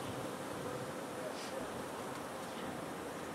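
Honey bees buzz around an open hive outdoors, a steady dense hum that fills the background at low volume without any talk.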